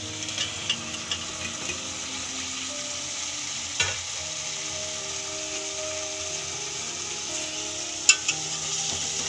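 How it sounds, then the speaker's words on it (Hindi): Potatoes fry in spice masala while a utensil stirs them, a steady sizzle broken by occasional scraping knocks against the pan. "इस आलू को अच्छी तरह से हम मिक्स कर लेंगे।"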